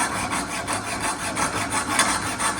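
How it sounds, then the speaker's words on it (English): A hacksaw cuts through a metal pipe being made into a sword, a fast, steady back-and-forth rasp of rapid even strokes, close up and without talk. "let's get the hacksaw"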